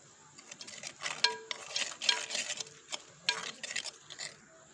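Chicken is being mixed by hand with cooking oil and spice paste, producing soft wet squelches and intermittent clinks and scrapes against a bowl in uneven bursts, close and quiet with no talk.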